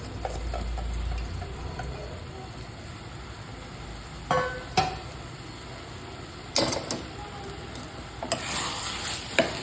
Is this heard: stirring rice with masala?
yes